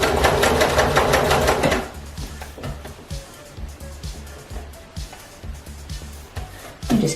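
Sewing machine stitching fabric for retro gym shorts, a fast loud whirring run of stitches that stops after about two seconds, followed by quieter intermittent clicks and handling noises.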